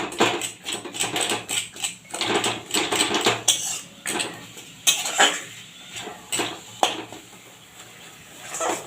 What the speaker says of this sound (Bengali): কড়াইয়ের মধ্যে নারকেল আর গুড়টা দিয়ে দিচ্ছি